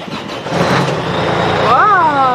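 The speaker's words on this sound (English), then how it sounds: "I started up the Volvo" A Volvo truck engine cranking and catching, rising to a loud close rumble that stays steady over about two seconds, with a short chirping whine near the end.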